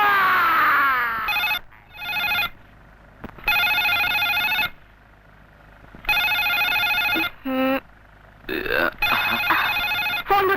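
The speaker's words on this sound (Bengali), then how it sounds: "আহা, দেখি কার ফোন" A telephone rings in repeated bursts of bright electronic trilling, separated by short pauses. A voice is heard between some of the rings.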